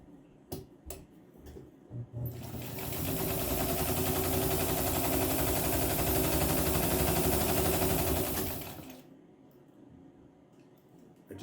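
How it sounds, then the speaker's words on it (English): A 103-year-old White Rotary electric sewing machine made in the USA runs steadily for several seconds, a close, even mechanical whir and hum that starts abruptly after a few clicks and stops cleanly, with no talking. "an old White Rotary sewing machine made in the USA"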